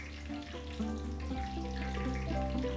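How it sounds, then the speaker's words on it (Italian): Steady sizzling and bubbling of hot sunflower oil deep-frying custard and chocolate cremini pastries, continuous and close, with faint clinks and no talking. "E adesso che abbiamo i cremini andiamo a friggerli."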